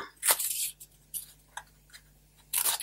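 Small scissors snip paper at an angle for an Advent calendar craft: several short, crisp cuts in separate bursts, close by, with no voices.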